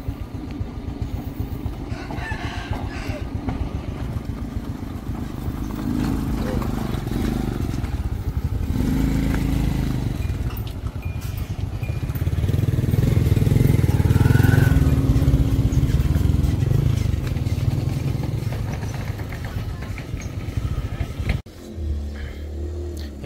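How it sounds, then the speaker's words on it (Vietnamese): A motorbike hauling a load of bananas putters along with a steady engine drone and some rattling clatter, swelling louder as it passes near, then a brief dip and resumed running. "Giờ đang chở chuối ra mà chở bằng xe con, xe máy."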